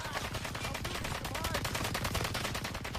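Rapid automatic gunfire from a shooter video game, dense continuous bursts of loud shots filling the whole stretch without pause.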